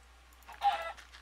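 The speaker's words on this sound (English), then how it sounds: "Mr. Chicken, you made a noise." A Minecraft chicken gives a short, single clucking call in the game, close and clear against a quiet background hum.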